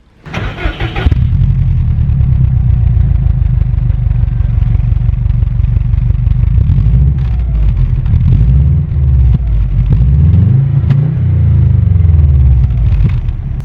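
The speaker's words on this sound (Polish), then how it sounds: "A teraz posłuchajcie, jak brzmi na fabrycznym, troszkę dziurawym wydechu." A car engine starts and idles with a rough, throaty rumble, then revs up and down several times, sounding raspy through its slightly leaky stock exhaust.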